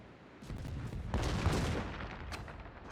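Warship guns firing in a naval battle video game, a faint, sustained rumbling barrage of booms that swells midway and then eases off.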